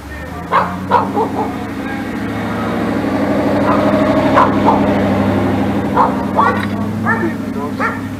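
A dog barks repeatedly in short, loud bursts, with whimpering yips between, over a steady engine hum nearby.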